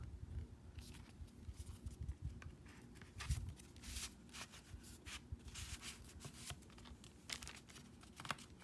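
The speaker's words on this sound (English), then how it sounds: "I was trying to stop the plastic sleeve from falling" A plastic record sleeve on a gatefold U.S. album is handled, giving soft, irregular crinkling and rustling close by, with scattered sharper crackles over a quiet background and no speech.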